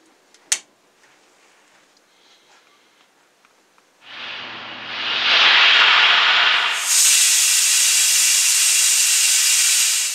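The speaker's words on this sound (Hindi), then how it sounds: "मीडियम फ्लेम पे 3री विसल आने के बाद हमने फ्लेम कर दी है बंद। अब वेट करेंगे प्रेशर रिलीज होने का।" A pressure cooker of dal makhani vents steam: after a sharp click, a loud rushing hiss begins and grows, then shifts to a higher, sustained whistling hiss that continues to the end.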